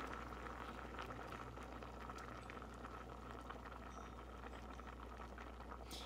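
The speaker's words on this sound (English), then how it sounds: "now that the rice is boiling" A low, steady bubbling of rice boiling in a pot of water, fairly quiet and continuous, with no voices.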